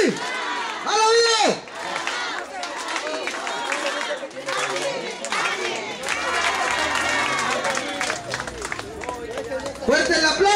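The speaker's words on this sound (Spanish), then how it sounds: "Fuerte el aplauso para motivar a nuestro diputado local del distrito 7" A crowd at a local deputy's groundbreaking ceremony for a chapel claps and cheers in a dense, sustained wash, while an announcer's amplified voice speaks loudly over the top.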